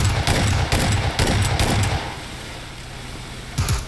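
Rapid bursts of gunfire ring out during a PUBG match, loud and close, with a string of sharp shots over the first two seconds, a quieter stretch, then another short burst near the end.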